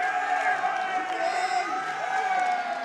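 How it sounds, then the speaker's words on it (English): Fans cheer and whoop in a steady, dense crowd roar at a classic Tetris championship tournament, sustained throughout with voices mixed in. "And you can hear, obviously, his fan base over here definitely cheering him on."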